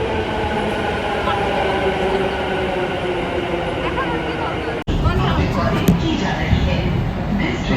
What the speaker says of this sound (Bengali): মেট্রো আসছে যাচ্ছে, আওয়াজ পাচ্ছে আশা করি